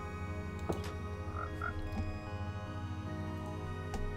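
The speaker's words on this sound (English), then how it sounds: "Didn't that sound like a frog?" A frog croaks a few times in the blocky survival game Minecraft, short squelchy calls over a steady hum of game ambience and background music.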